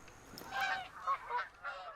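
Snow geese honk in theHunter: Call of the Wild at Askiy Ridge. A series of several fairly quiet, nasal calls rises and falls across two seconds, as though a flock is circling at a moderate distance.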